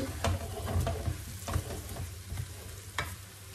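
Cooked rice and cauliflower stirred in a hot pan, a utensil scraping in repeated strokes over a soft steady sizzle.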